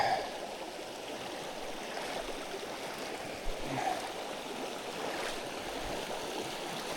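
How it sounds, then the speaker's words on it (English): Shallow stream water rushing and trickling steadily while someone wades across it on a hike, a continuous close wash with a few brief splashes midway. "I think we're gonna do a little water walking right now."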